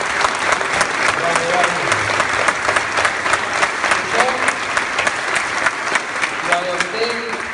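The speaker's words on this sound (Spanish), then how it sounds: "Un aplauso." A crowd applauds, with dense, continuous clapping that keeps a steady level for over seven seconds and has faint voices mixed in.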